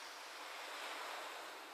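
Ocean waves wash steadily onto a shore at Edinburgh, a continuous broad hiss of surf with some wind, with no voices.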